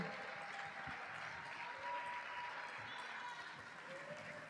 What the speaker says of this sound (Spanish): recibámosla de nuevo con un tremendo aplauso a Lunar.